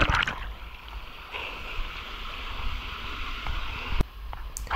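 Water runs at low flow down a canyon slide among stepped obstacles in an open setting, a steady close rushing and gurgling with a few sharp knocks.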